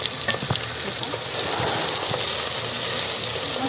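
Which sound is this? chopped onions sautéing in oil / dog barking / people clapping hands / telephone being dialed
chopped onions sautéing in oil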